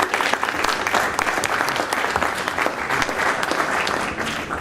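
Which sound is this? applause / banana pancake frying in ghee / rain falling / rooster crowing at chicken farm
applause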